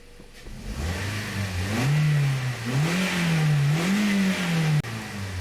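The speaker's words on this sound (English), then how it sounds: "So this engine sounds really good, it runs good, so this is fixed." A 2009 Toyota Corolla engine runs smoothly after a cylinder misfire repair, a steady close hum that rises and falls in pitch with light revving, heard alone.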